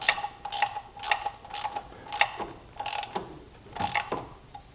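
A ratchet tool tightens the upper thermostat housing bolt on a Chrysler 200 V6, giving bursts of loud, close metallic clicking in a regular back-and-forth rhythm with short pauses between strokes.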